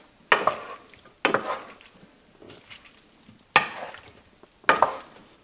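Shrimp lo mein tossed in a hot pan: four distinct swishing, clattering tosses at irregular intervals, each a sharp burst of noodles and metal that fades quickly, close up with no talking.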